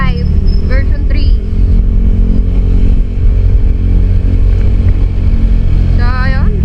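A Honda Click 125 version 3 motor scooter rides along a rough, bumpy road near Tanauan City, Batangas, its engine droning loud and steady throughout, with someone talking over it and a brief whistle-like tone.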